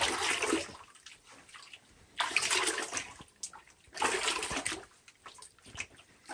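Water rushes over gold sluice mats being rinsed for fine gold, coming in three loud surging bursts separated by quieter gurgling gaps, close and steady with no talking.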